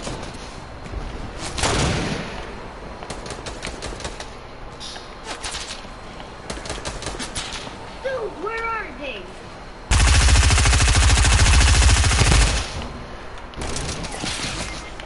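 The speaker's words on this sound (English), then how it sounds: "Oh, they sniped me again." Gunfire from a Fortnite match, with sharp repeated shots and bursts spread across the scene, a loud sustained blast partway through, and voices talking in places.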